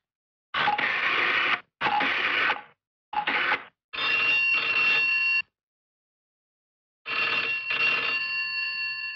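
A telephone rings in several electronic bursts separated by short pauses, then stops for a few seconds before ringing again.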